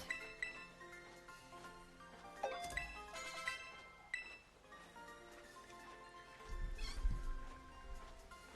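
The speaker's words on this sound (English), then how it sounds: "my little, cat meowing in the background." A pet cat meows several times, faint and somewhat distant, short mewing calls scattered over a quiet background of game music and soft clinking sounds.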